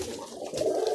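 A golden pigeon gives one soft, low coo, near and alone.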